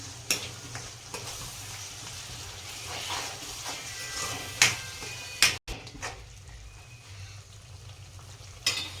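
A spoon stirs and mixes ingredients in a cooking pan for a Gujarati tuver totha dish, with continuous low frying sizzle and a few sharp scrapes and clinks against the pan.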